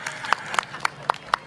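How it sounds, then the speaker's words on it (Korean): Clapping at a political rally in Cheongju, a few sharp, evenly spaced claps about a quarter second apart standing out over a thin background of crowd noise. "힘찬 박수와 응원 부탁드리겠습니다"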